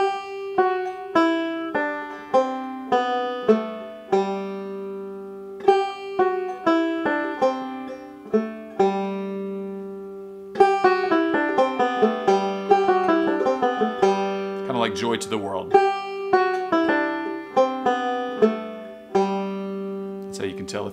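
A banjo picks a steady run of bright, twangy notes stepping downward in pitch, repeated a few times, played close and clear with no voices.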